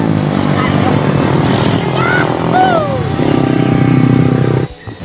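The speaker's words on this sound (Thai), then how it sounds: "ได้ยินแต่เสียงมอเตอร์ไซค์เด็กแว้นนะครับ" Motorcycles ridden by teenage street racers rev and drone near Khao Hua Chang dam in Thailand. The engine noise is continuous and loud, with rising and falling whines and faint background chatter, then cuts off abruptly near the end.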